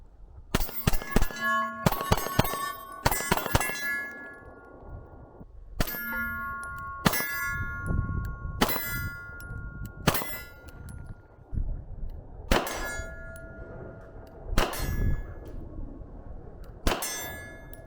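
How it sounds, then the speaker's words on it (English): A Beretta APX pistol fires quick strings at steel targets outdoors: sharp shots followed by bright ringing clangs of hit steel, in bursts of two to four with pauses between them and about a dozen in all. "In quick strings of fire, the APX wants to stay pretty settled"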